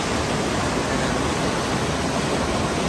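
An Alaskan waterfall heard from a bridge, a constant dense broadband roar of rushing water, loud and steady throughout, with no voices.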